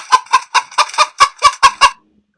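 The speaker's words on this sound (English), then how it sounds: "it's like a chicken noise." A quick run of about nine loud, evenly spaced chicken clucks from a sound effect, close and punchy, then abrupt silence.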